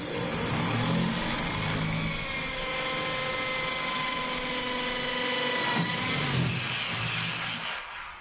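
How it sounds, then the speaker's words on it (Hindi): A power drill set to screwdriver mode bores into a ceramic tile with a steady high-pitched whine that holds level through most of the clip, dips briefly and then rises again, with no talking. "तो इसको स्क्रू ड्राइवर पे रखते हैं और उसके बाद हम इसको ड्रिल करके देखते हैं।"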